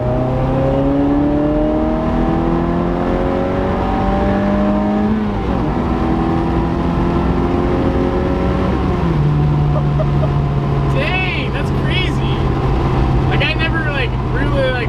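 A 160 whp Mazda Miata with an Ecotec engine swap revving and accelerating hard through the gears, loud and close with rising engine pitch and shifts, people talking over it.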